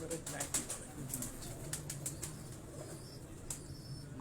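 Pigeons flapping their wings on a Lahore rooftop loft, several bursts of wing claps near the start and again later, over a steady background hum.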